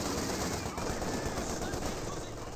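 Sustained automatic MG42 machine gun fire in the Company of Heroes 2 strategy game, a dense, steady rattle of rapid shots running throughout with a busy battle mix behind it.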